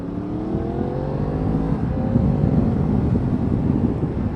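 A 2019 Yamaha MT-10 motorcycle engine revs up and pulls with rising tones under steady wind rush, close and loud throughout.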